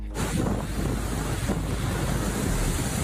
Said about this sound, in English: The 200-kilometre-plus winds tossing wheelie bins around like confetti.